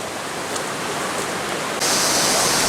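River flowing beside the forest path to Jolotundo waterfall, a broad steady roar of rushing water that swells louder partway through, with no voices.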